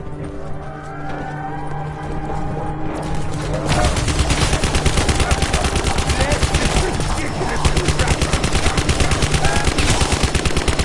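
Rapid automatic gunfire from Black Ops 4 zombies mode rattles loud and continuous after a calmer opening, with game sounds layered underneath.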